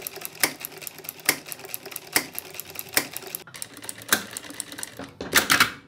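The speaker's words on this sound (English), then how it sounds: "Now we can start sewing." An industrial sewing machine (Jack F4 or Juki G900 type) fitted with a ruffler presser foot runs in loud, rhythmic mechanical clacks about every second. A sharp burst of rapid stitching comes at the end.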